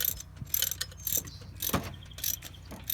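A ratchet clicks rapidly while tightening the rocker cover bolts on a 2005-2010 Honda Odyssey engine, close dense mechanical ticking with small metallic knocks in between.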